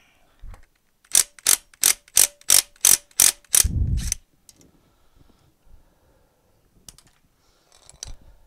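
A socket head screw is worked loose from the back of the main shaft in a David Brown 990 tractor PTO: eight quick, evenly spaced metallic clicks like a ratchet, then a heavier clunk as the big washer comes free, with faint knocks afterward.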